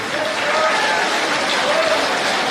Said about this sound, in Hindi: महिलाओं को ताली जोरदार बजानी चाहिए।